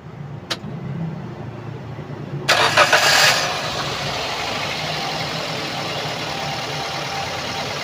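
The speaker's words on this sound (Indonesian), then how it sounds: "kita starter, kita dengerin suara dari stasioner sampai ke RPM tinggi." The 1.3-litre engine of a 2017 Daihatsu Gran Max pickup truck cranks and catches with a loud burst, then settles into a steady, even idle that continues to the end.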